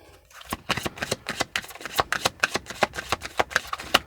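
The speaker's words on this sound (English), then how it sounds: "Let's pull another card." Tarot cards being shuffled by hand, a rapid series of crisp riffling slaps and flicks in an irregular rhythm, close and clear with no talking.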